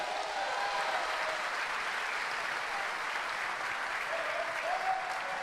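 A church congregation applauds and cheers during a service, sustained crowd clapping filling the room evenly, with faint voices calling out within it.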